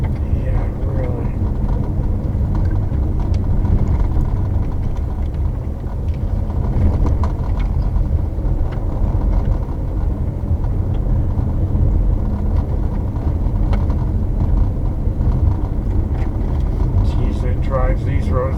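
An all-wheel-drive car cruising along winding country roads between Mad River and Cooper's, a steady low engine and road rumble heard from inside throughout, with people talking over it.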